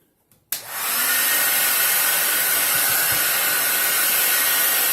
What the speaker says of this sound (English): I'm going to stick a hairdryer in here